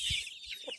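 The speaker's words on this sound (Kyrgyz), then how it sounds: "бул деген уже 1 ай 20 күндүк жумурткалар, жөжөлөр. Брамдары бар, полубрам." Young Brahma and half-Brahma chickens, about fifty days old, give a few short clucks and peeps close by, separated by brief pauses.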